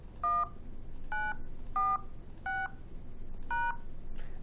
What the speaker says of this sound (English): I'll dial the same meeting ID.